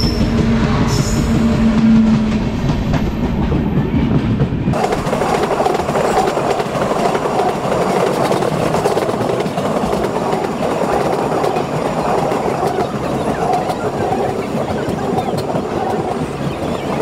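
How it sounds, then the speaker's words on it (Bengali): The down Tamralipta Express rolls into Ramnagar station, close and loud, with a steady rumble and clickety-clack of wheels over rail joints and faint wheel squeal. A short hum precedes the train's full passing noise. "ডাউন তাম্রলিপ্ত এক্সপ্রেস রামনগর চলে এলো।"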